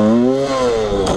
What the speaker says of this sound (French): Voilà, ça se cabre et j'utilise pas l'embrayage